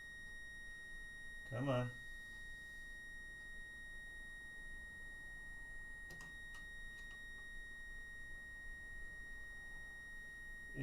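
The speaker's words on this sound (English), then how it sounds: "It's just the beeping that just makes it all worthwhile." A broken pinball machine gives off a steady, thin electronic tone that runs throughout, joined by a brief thump and a few sharp mechanical clicks, and someone speaks briefly.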